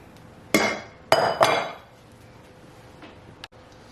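Metal spoon clinks against a bowl while pudding for banana pudding is scooped into a bigger bowl, with three sharp close knocks in quick succession and a softer tap afterwards.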